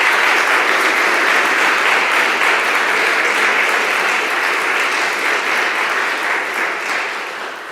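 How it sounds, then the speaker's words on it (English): An audience in a church applauds after a council update, a dense, loud wash of clapping that holds steady and then tapers off toward the end. "If I could have a round of applause for all of those."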